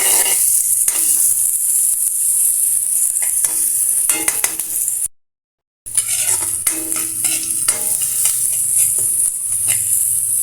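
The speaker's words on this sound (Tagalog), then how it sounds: "Palagi ko talaga pinagsasabayan, bawang at saka sibuyas." Garlic and onion frying together in a pan, a loud close bright sizzle with clinks and scrapes of a spatula against the metal, broken by a brief silent cut midway before the sizzling resumes.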